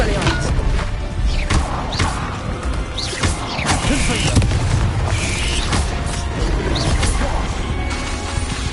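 Repeated Confringo fire-spell blasts in the Hogwarts Legacy video game, a dense barrage of booming impacts and crashes roughly every half second over continuous battle noise, with spoken incantations mixed in.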